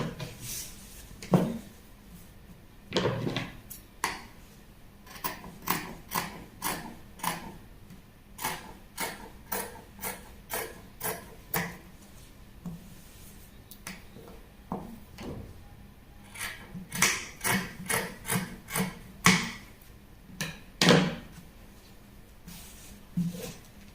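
Scissors snip repeatedly through fabric while a sewing pattern is cut out, a close, dry series of short clipping bursts in uneven runs with brief pauses between.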